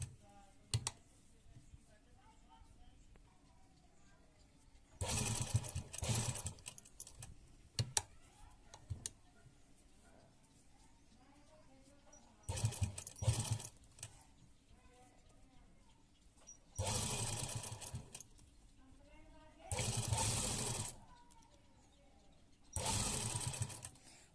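A sewing machine stitches lace onto a garment neckline in several loud bursts of rapid whirring, separated by quieter stretches of clicks and handling of the fabric.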